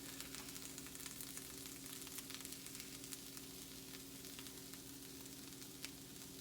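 Coconut toasts in a pan, a faint, steady sizzle with light scattered crackles over a low electrical hum, quiet and close with no voices.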